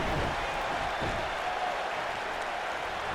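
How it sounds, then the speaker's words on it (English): A Brooklyn arena crowd in the wrestling game WWE 2K19 cheers and applauds steadily, a dense, even wash of crowd noise with no talk. "the Brooklyn crowd loving this"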